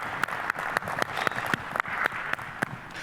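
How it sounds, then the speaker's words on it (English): Applause from an audience at a talk, steady clapping from a crowd that continues evenly throughout at moderate volume with no voices over it. "let's clap it up for Don"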